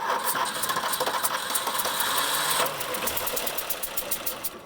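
A rare 1980s classic barn-find car, parked for twenty years, has its engine turning over and catching. The noise is a rough, uneven, close-up running with rapid knocking pulses. After a few seconds it drops to a softer, steadier idle.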